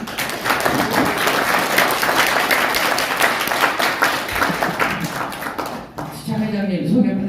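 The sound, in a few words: audience applause at a symposium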